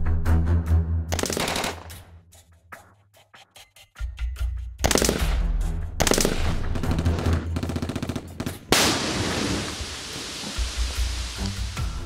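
Machine-gun bursts and heavy shelling at the India–Pakistan border, with rapid loud volleys, pauses and a long roaring fusillade that washes into noisy echo.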